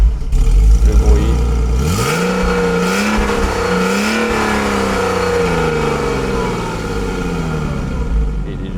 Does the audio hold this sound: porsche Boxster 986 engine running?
yes